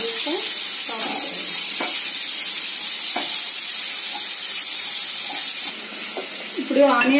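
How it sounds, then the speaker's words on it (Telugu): Onions sizzle and crackle in hot oil for a bitter gourd chili dish, a loud continuous fry with a few stirring scrapes, easing slightly near the end. "ఆనియన్ కొద్దిగా వేగిస్తే చాలా"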